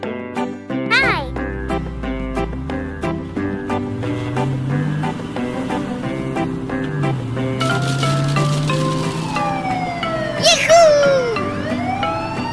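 A toy police car siren wails in loud, shifting electronic tones over cheerful music, with a voice in places, from a kids' toy car assembly scene.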